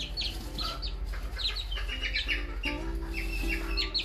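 Young northern Vietnamese bantam chickens about two months old cluck and peep in a small flock, with a mix of soft clucks and higher chirps, close and steady with no talk.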